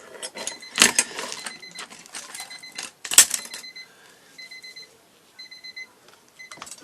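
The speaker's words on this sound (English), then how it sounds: "That was my timer going off" A kitchen timer alarm goes off during sugar-flower butterfly making, its shrill electronic beeps repeating in short evenly spaced bursts after a couple of sharp clatters and handling noises nearby.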